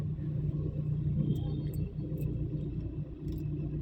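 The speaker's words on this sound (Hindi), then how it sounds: "इतनी ज़ोर के जब तूफ़ान के थपेड़े लग रहे हैं एकदम से गाड़ी भी हिलती है।" Storm winds buffet a parked car during a strong storm in Gohana, heard from inside as a continuous, loud, low rumbling with gusts surging and easing and a few faint higher rattles.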